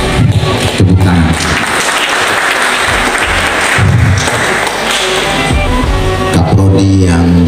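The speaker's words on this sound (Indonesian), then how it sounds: "Tepuk tangan." A hall full of people claps loudly at a faculty of engineering inauguration ceremony, a dense wash of applause with thumps and taps mixed in, and voices briefly audible over it.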